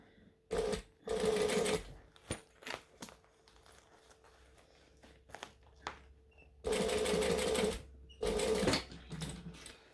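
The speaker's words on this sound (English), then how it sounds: "I just sewed a little bit closer to the edge of the binding" A sewing machine stitches near the edge of quilt binding in several short bursts, separated by quiet pauses with fabric rustling and handling clicks, close by.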